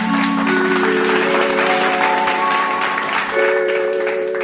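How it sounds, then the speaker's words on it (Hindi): Loud, dense applause from a stage-show audience welcoming an Odia singer, sustained throughout with sustained musical tones from the stage mixed underneath. "गोटे जोरदार करताली"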